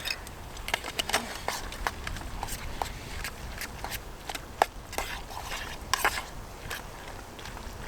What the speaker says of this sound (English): Let's stir that around a bit